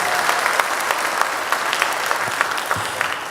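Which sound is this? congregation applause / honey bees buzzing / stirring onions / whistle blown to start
congregation applause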